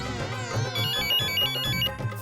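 A mobile phone ringtone plays loudly and steadily as a bright melodic electronic tune with a low rhythmic beat, close by and with no voices over it.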